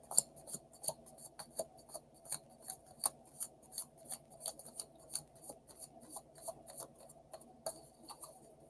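Tarot cards are shuffled in a steady run of crisp, rapid snaps and riffles, close and quiet, with no voices.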